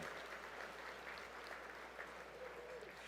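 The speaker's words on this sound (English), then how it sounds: "Please help me give a warm round of applause to all of our elected officials who are here for this afternoon's session." A luncheon general session audience at a transportation summit gives steady applause for elected officials, even clapping from a large room, faint and somewhat distant, with no talking over it.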